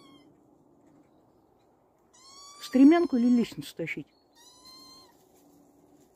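A cat perched on a woodpile meows a few times, with short tonal cries close by, mixed in with someone talking to it against a quiet background.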